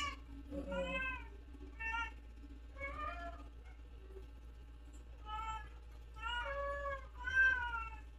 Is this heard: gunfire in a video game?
no